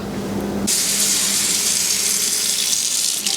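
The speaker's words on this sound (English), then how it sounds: "I'm waiting for my water to get hot because I need to now add more water to the canner" A kitchen tap opens and water gushes steadily into a sink while it waits to run hot for topping up a canner used for canning green and yellow beans, close and continuous.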